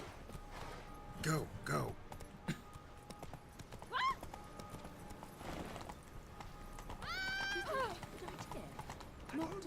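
Horse in The Witcher 3: Wild Hunt, hooves clip-clopping in bursts with a loud neighing whinny near the end, a person talking under it.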